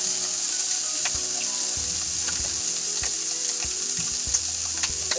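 Halved food laid cut side down in a pan over medium-high heat sizzles steadily with a bright, constant hiss, plus occasional soft clicks and pops; close and continuous, no talking.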